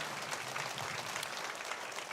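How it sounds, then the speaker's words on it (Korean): A church congregation claps together in a dense, even wash of applause, somewhat distant and fairly quiet, holding steady throughout without any voices on top. "우리 주님께 박수하겠습니다."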